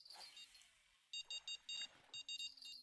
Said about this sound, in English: I don't even know which one is beeping